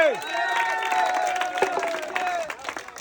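A crowd claps and cheers for a ball-rolling prize game on a winding track, bright whoops over steady applause for about three seconds, with a voice calling out above the noise.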